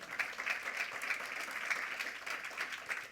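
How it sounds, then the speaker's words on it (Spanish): Enthusiastic applause from a church congregation, a bright, continuous patter of many hands clapping at a fairly quiet, even level for a few seconds, without speech on top. "Den un aplauso fuerte a Jesús."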